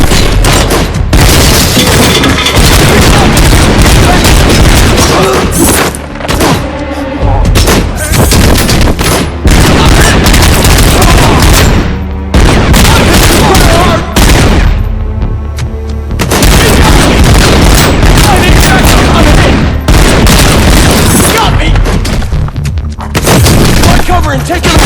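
Suppressive gunfire in Robocop Rogue City, dense loud bursts of shots and booming impacts almost without pause, with only brief gaps.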